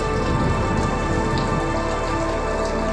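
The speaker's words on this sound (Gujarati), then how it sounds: "અત્યારે પાવો ચાલુ થઈ ગયો છે વરસાદ" Heavy, steady rain pours down continuously in a Gujarati setting, a dense wash of drops hammering a surface close by, with no voices.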